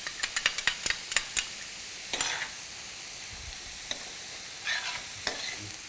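Onion, carrot, celery, green bell pepper and cilantro sautéing for black bean soup, with a run of sharp spoon clacks against the pan at first, then scattered stirs over a soft steady sizzle.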